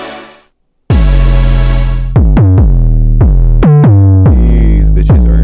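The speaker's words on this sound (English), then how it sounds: "And then coming with these 808s." Booming 808 bass notes with overdrive and a widened stereo spread, a long sustained hit followed by a run of short punchy knocks gliding between pitches, loud and close with no voices.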